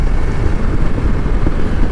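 A Hero Xpulse 200 4V motorcycle rides an off-road trail, its engine a steady low rumble mixed with heavy wind buffeting across the microphone, continuous and close throughout.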